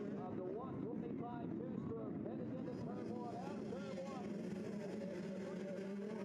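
A 125cc two-stroke motocross bike in the FMF XC3 class of a GNCC cross-country race on the Pennsylvania–West Virginia line winds out its engine. The revs rise and fall in repeated sweeps, faint and distant, with a steady rumble beneath.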